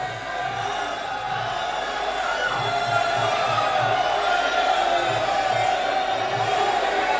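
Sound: crowd cheering at MMA fight

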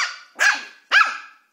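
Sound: Maltese puppy barking

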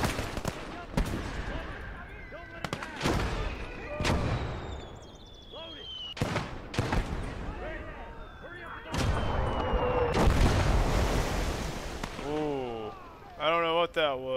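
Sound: grenade explosion and gunfire in a video game

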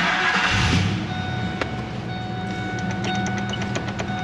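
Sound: 2000 Ford F truck engine restarting

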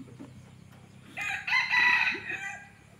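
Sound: jungle fowl rooster crowing

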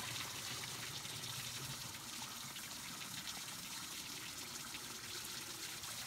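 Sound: water filling a carpet cleaner reservoir

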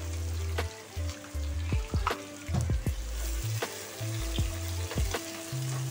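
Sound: sliced onions frying in a pan

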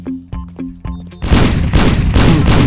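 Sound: pistol gunshots in video game Sneak Thief

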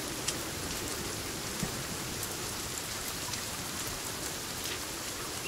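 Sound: rain in Sons of the Forest video game

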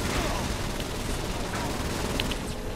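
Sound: gunfire in the video game Saints Row

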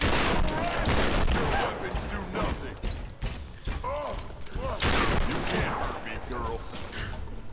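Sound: gunfire in Tomb Raider video game

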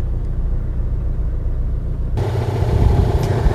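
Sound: Opel Blazer engine and exhaust running

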